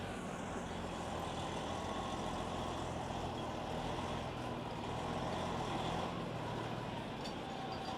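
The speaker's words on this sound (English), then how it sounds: "This truck's got to make that wide-ass turn." A large truck swings through a wide turn on a New York City street, its engine giving a steady, loud, close rumble with broadband road noise throughout.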